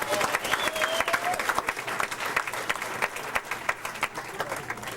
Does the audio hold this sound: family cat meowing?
no